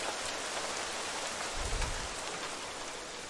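Steady rain falls in the survival video game The Isle, a dense broadband hiss of drops on surfaces with a brief low rumble swelling midway, continuous and fairly loud with no talking.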